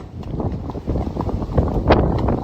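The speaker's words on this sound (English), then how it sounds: "Oh, this wind, it's terrible." Strong gusts buffet the microphone during a windy horseback hack on a mare named Rose, producing rough, uneven low rumbling bursts that swell and fade close to the mic.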